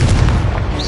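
A Confringo blasting curse bursts in Hogwarts Legacy, a single heavy, booming explosion with dense low rumble that stays loud across the whole second, ending with a brief higher whistle.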